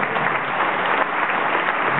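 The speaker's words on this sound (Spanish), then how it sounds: "Fuerte el aplauso." A theater audience at a payador performance in Dolores claps steadily, dense continuous applause from many hands filling the room without a break and with no voices over it.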